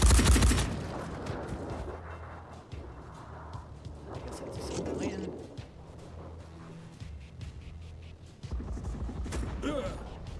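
Gunfire in the game Phoenix Point opens with a loud burst, followed by scattered shots and impacts over a low rumble, with a voice talking intermittently.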